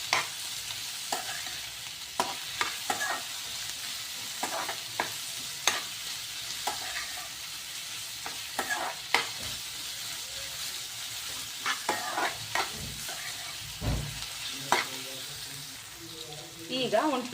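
Onion and capsicum frying in a pan for mushroom masala, a steady sizzle broken by repeated scraping strokes of a spatula stirring, close by, with a voice speaking briefly near the end.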